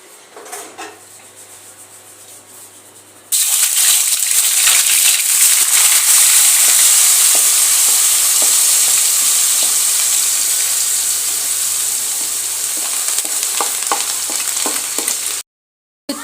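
Masala spices with fenugreek fry in hot oil, a loud, dense sizzle that bursts in after a quieter opening and continues steadily, with occasional stirring scrapes, then stops abruptly near the end.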